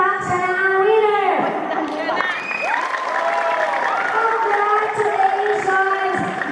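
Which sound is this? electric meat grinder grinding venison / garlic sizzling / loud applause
loud applause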